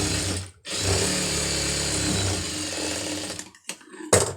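A sewing machine runs a fold stitch along fabric, giving a loud, steady mechanical whir with short pauses and a final quick burst near the end.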